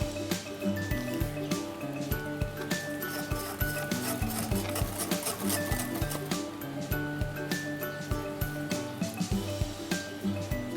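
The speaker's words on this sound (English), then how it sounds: "add our butter and boiling hot water and mix it all together until it's all melted" Butter and boiling water are stirred into cocoa icing for lamington fingers, with a spoon or whisk clinking steadily and rhythmically against the bowl. Music plays underneath throughout.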